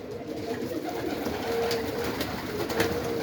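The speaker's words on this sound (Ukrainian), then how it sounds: "Отакі голуби" Pigeons coo softly and repeatedly at close range over a low background rumble, with no one speaking.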